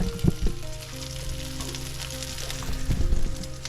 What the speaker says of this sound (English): cooking up a couple of burgers with eggs